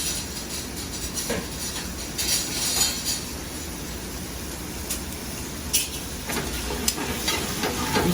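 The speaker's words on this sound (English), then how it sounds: "You hear it sizzling." Beef loin searing in a pan in a home kitchen, a steady broad sizzle and hiss holding throughout with a few brief louder crackles, close and fairly loud, no talking.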